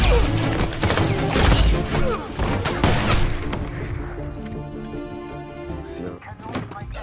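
Special forces soldiers exchange fire in a film battle, dense bursts of gunshots and crashing impacts under a narrator's voice, fading into quieter rumbling and scattered hits.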